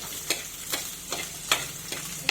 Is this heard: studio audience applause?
no